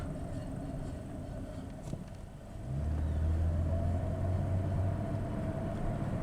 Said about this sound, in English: when you're taking off, it has a hesitation up until you get out of first gear